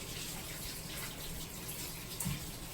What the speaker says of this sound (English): If you hear water, I'm just rinsing my hands off.